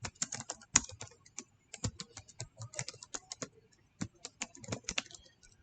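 Computer keyboard typed in quick bursts of light clicking keystrokes with short pauses between runs, close and fairly quiet, no voices.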